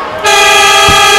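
A loud, sustained buzzer horn sounds at a 2002 EuroLeague men's basketball game between Real Madrid and CSKA Moscow, starting abruptly and holding steady over arena noise.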